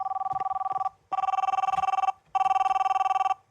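Video game telephone ringing with a bright electronic bell tone in three long bursts separated by short gaps, loud and close, with faint talk underneath.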